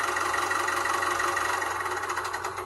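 Electronic engine noise from a Matchbox toy tractor in a farm playset: a loud, continuous buzzing motor drone that holds steady, then fluctuates and fades slightly in the last half second.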